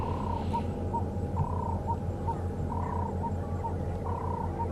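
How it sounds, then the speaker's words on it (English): A ring-necked dove, also called the Cape turtle dove, calls on an African safari drive at sunrise: a steady series of repeated cooing notes at a moderate distance, over a constant low rumble. "it was a ring-necked dove going croak, croak, croak, croak, croak, croak"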